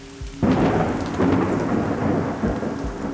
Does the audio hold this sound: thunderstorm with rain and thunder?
yes